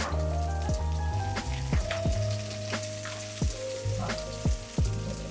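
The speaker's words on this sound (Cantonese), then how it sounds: "放洋葱入鑊爆香" Onions sizzle in hot oil in a wok, a steady crackling fry with repeated sharp ticks and pops over a low background hum. No one speaks.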